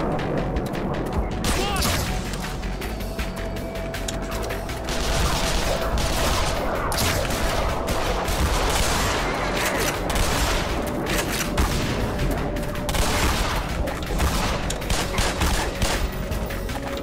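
Sustained strafing gunfire in the Black Mesa: Xen video game, dense rattling bursts and booms filling the whole stretch, loud and continuous, with game music and noise underneath.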